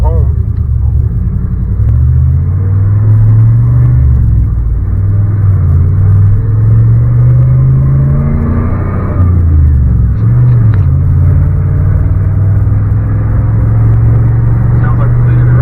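A Chevy truck's TBI engine revs hard through a third-gear pull from a dead stop, loud and close, its rumbling pitch climbing, dipping at a shift, then rising again, with engine and road noise filling the whole stretch.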